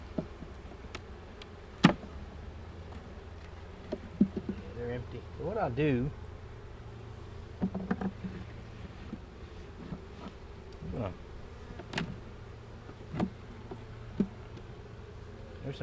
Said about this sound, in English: I see bees over here doing something.